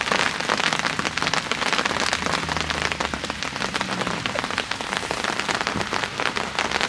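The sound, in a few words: hailstorm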